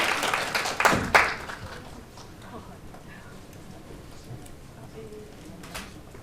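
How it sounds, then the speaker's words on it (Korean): An audience at the opening of a Korean–Japanese women journalists' forum on low birth rates claps in a short burst of applause that quickly fades into quiet room noise, with a voice faintly present. "박수로 맞아주시기 바랍니다."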